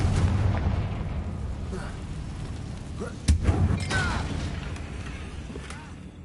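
A Confringo fire spell bursts in Hogwarts Legacy gameplay, a sudden sharp boom near the middle over a dense rumbling battle bed.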